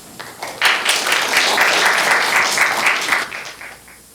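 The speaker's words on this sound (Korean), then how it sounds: "우리 나오실 때 박수로 우리 같이 맞이하도록 하겠습니다." Applause from a church congregation at a Korean Sunday worship service, steady broad clapping that swells after a quiet start, holds for about three seconds, then thins out toward the end with no talk over it.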